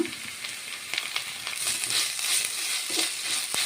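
Ginger garlic paste sizzles in a pan over fried onions and green chillies, a steady close crackle with occasional stirring scrapes and no voices.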